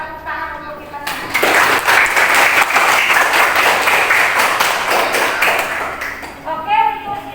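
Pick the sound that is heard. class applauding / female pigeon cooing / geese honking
class applauding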